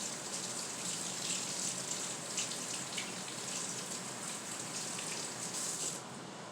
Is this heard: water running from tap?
yes